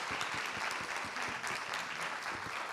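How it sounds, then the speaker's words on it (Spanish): Audience applause in an auditorium at the close of a panel discussion on fashion films at a business event, steady dense clapping filling the space with faint voices underneath. "Un aplauso para ellos, por favor."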